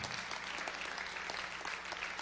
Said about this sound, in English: Clap your hands to the Lord for that.